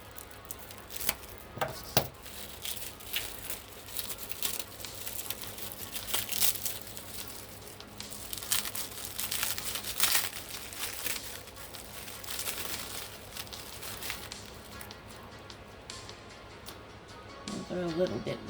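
Crinkling plastic and tearing tape while an anime figure is slowly unboxed, with uneven rustles and crackles up close and a person talking intermittently over the handling.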